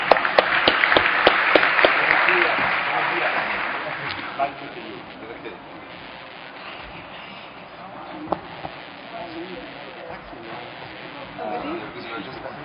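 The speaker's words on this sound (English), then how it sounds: "So a round of applause to all of them now." A burst of clapping from a crowd opens loudly, then thins and fades after a few seconds, leaving quieter room sound and scattered noises.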